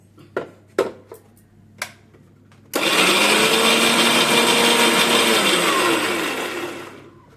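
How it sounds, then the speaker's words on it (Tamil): A kitchen mixer grinder grinds soaked sago. A few light taps come first, then the motor roars into a loud, steady, harsh whirring grind that holds for about four seconds before easing off. "ஒரு பிடி ஜவ்வரிசி ஊற வச்சு மிக்சியில் போட்டு நல்லா அரைச்சிக்கணும்"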